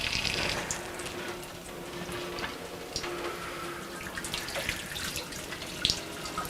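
Water runs steadily through a wort chiller cooling a batch of homebrewed double IPA wort, a continuous close hissing flow with small splashes and drips, louder at the start and holding level with no talking.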